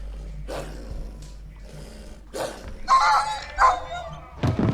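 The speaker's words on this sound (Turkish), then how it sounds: "Lanet köpek." Dog barks in the horror game Hazing Night Shift, two or three rough, growling barks near the end over low rumbling and footstep-like thuds, moderately loud.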